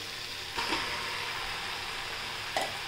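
Leftover cooked rice with mint is stir-fried in a hot pan, a continuous close sizzle with occasional soft scrapes and knocks of a spatula against the pan; no one speaks.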